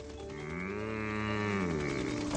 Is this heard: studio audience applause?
no